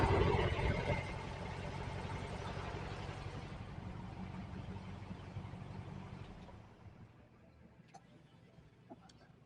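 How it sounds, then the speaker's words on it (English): A 1968 VW Type 3 with a fuel-injected engine idles steadily, a loud low broadband rumble that drops in level partway through and settles into a quieter, even idle with faint ticks near the end. "All right, well, it's still idling."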